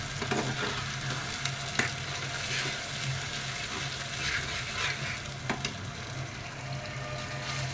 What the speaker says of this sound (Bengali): মিক্সিং সরিষা দিয়ে দিলাম। পরে ওটা ধুয়ে আর একটু পানি দিয়ে দিব। আর সরিষাটা কষিয়ে নিই।